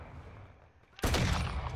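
Rapid pistol gunfire in a multiplayer first-person shooter bursts loud and dense after a quieter second of game ambience, a close cluster of shots with voices faintly mixed in.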